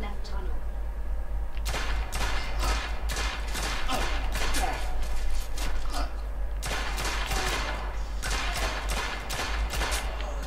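Repeated bursts of gunfire in The Order: 1886 crackle in irregular clusters over a low steady hum, with someone talking throughout.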